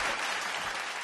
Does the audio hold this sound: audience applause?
yes